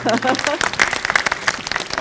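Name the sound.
audience applause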